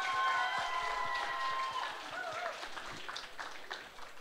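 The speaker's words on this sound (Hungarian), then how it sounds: "Már ezért megérdemelnek egy nagy tapsot," Applause from a crowd for cosplayers at a fantasy expo stage results ceremony, moderately distant clapping over a hall ambience with faint background voices and tones, thinning slightly toward the end.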